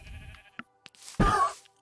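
A sheep bleats loudly once near the end, a single drawn-out wavering cry in a Foxcraft video game, preceded by a few faint soft clicks and low rumble.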